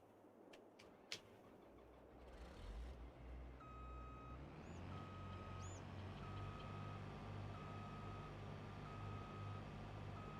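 In Farming Simulator 22, a truck reverses while parking. A few clicks come first, then the engine's low rumble, and a steady, evenly spaced electronic reversing beep repeats many times, moderately loud.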